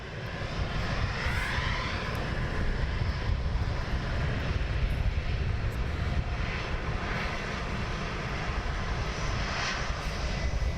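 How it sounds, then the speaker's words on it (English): A Wizz Air airliner taxis out at London Luton Airport, its engines giving a steady, continuous roar at moderate distance with no talk over it. "we're gonna get the Wizz Air going out"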